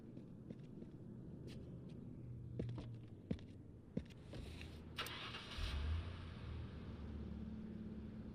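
In an ambulance paramedic simulator game, a vehicle engine starts and idles with a low steady rumble, punctuated by a few sharp clunks like doors or switches, fairly quiet throughout.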